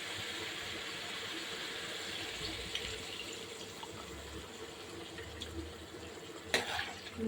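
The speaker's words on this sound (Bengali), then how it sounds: "এখন কষানো পানি দিয়ে দেবো।" Water poured into a cooking pot of onion and lentil dal on a home stove, a steady faint splashing stream with a brief louder clatter near the end.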